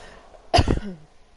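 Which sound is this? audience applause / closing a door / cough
cough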